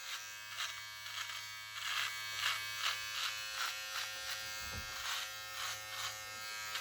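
A Sminiker cordless rechargeable beard trimmer runs with a steady electric buzz, pulsing softly as it passes over a beard in repeated short strokes, close and fairly quiet, with no talking.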